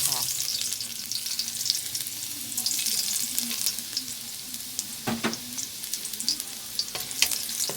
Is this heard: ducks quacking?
no